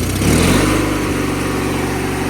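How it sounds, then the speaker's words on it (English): A 1997 MTD Yard Machines riding lawn mower engine on a cold start with the choke on, running as a loud, steady, rough drone up close, with a slight surge at the start. "Gonna do a cold start on my 1997 MTD yard machines."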